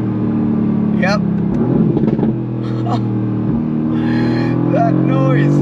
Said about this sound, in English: This is arguably one of the best sounding turbo engines